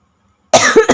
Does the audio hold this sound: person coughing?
yes